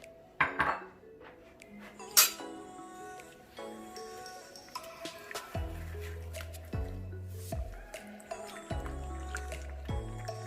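Eggs and sugar for crème caramel are stirred in a bowl, with wet squishing, soft clinks of a utensil against the bowl and intermittent louder knocks, fairly quiet and with no talking.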